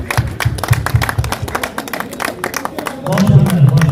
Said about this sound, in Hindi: इसी के साथ मैं चाहता हूँ कि थोड़ी तालियां हो जाए